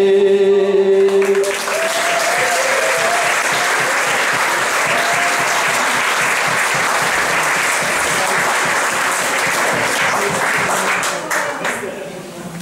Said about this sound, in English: You're still clapping far too long.